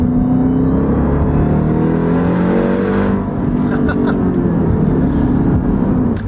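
The exhaust of a 2018 Jeep Grand Cherokee Trackhawk drones loud and close from inside the cabin, its engine tone rising and falling steadily under acceleration with a constant throaty rumble.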